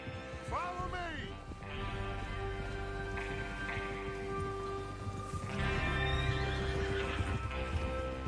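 Horses whinny and neigh over steady clip-clopping hooves in Red Dead Redemption II, with a low background rumble and scattered game ambient noise throughout.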